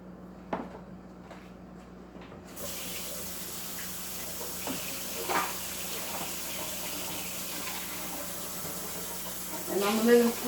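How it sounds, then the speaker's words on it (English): Water running from a tap into a pot of cooking greens, a steady broadband splash that starts abruptly and carries on evenly, close by, with a few clinks and a brief voice near the end. "I'm going to put a little bit of water in here"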